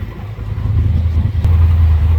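A Polaris RZR XP Pro Ultimate engine revs under load on a ride, a loud, deep, steady drone with wind roar and rising intensity.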